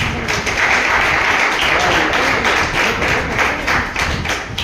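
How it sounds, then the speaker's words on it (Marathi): An audience at a 12th-standard farewell ceremony in a junior college claps loudly for the teachers, dense sustained applause with a rhythmic pulse and no talking. "सर्व शिक्षकांसाठी एक जोरदार टाळ्या वाजवा"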